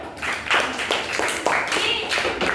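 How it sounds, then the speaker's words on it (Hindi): Classroom students clap together in rhythmic unison, loud evenly spaced bursts of hands repeating roughly twice per second from start to finish. "ताली मारो"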